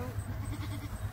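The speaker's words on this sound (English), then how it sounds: "Look at this baby goat." A baby goat on an alpaca farm gives a short, soft bleat, heard close with low rumbling background noise and no talk over it.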